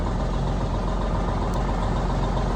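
A Kenworth semi truck engine idles, a loud, constant low diesel rumble with a steady throb, heard up close and unchanging.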